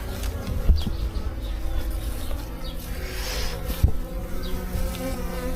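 Honey bees buzz around a beehive in a steady, close, continuous drone, with a couple of brief low thumps and no talking.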